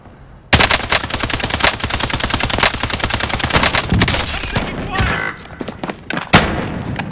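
Rapid automatic gunfire in the video game Warzone, a dense, loud burst of close shots lasting several seconds with scattered louder single cracks, while a voice speaks over it.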